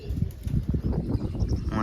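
A local pigeon arrives with a quick flutter of flapping wings, soft and close. Brief rustling bursts come over a low background murmur.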